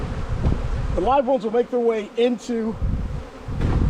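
Honeybees buzzing around a newly installed hive, a steady close hum that fills the clip and dips briefly while a person speaks over it.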